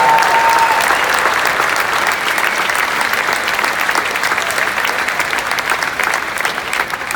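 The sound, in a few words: audience applauding orchestra at outdoor concert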